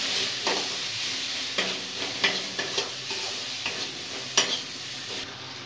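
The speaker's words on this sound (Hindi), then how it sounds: "मैंने अच्छे से मसाला को भून लिया है" Masala spices with red chilli powder and salt roasting and being stirred in a pan for an arbi fish curry: a steady sizzle with intermittent scraping strokes of a spatula, close and moderately loud, no talking.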